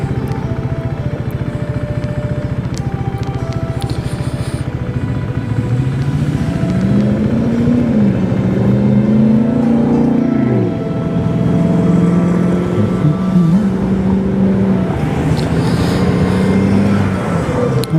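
A 2020 KTM 390 Duke motorcycle rumbles steadily while riding, its engine note rising and falling in pitch as it accelerates and eases off, loud and close with constant wind noise throughout.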